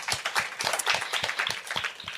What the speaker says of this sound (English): Emery, round of applause for you here